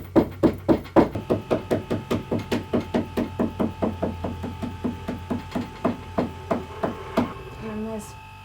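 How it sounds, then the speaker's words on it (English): Rapid, evenly spaced hammer taps on a tall upholstered headboard in an upholstery workroom, about two dozen blows in a steady rhythm over a low electrical hum, ending with a softer scrape. "then you just can hammer it"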